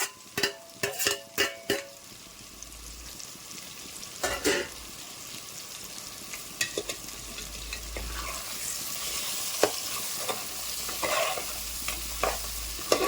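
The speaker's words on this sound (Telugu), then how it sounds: "ఇప్పుడు కొత్తిమీర పుదీనా కూడా వేసేస్తాను మంచిగా మిక్స్ చేసుకున్నాను" Vegetables with coriander and mint leaves stir-fry in a pan for vegetable pulao, with a steady sizzle and repeated scraping stirs, a few sharp clatters at first, all close and without talk.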